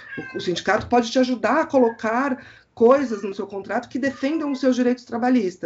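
A pet cat yowls repeatedly and loudly in a drawn-out, insistent way, its calls overlapping with a person talking close by.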